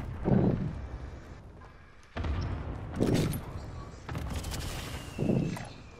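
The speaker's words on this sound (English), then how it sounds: "Gunfire." Gunfire during a video game shootout: several loud bursts and booming shots in irregular clusters, with sharp echoing cracks between them, fairly close and punchy.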